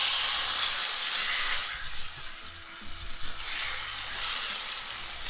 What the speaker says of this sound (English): And I'm gonna place my beef now